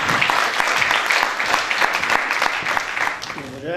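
A concert audience celebrating a community cultural centre's 80th anniversary breaks into lively, close applause, dense and fairly loud throughout, easing slightly just before a voice begins at the end.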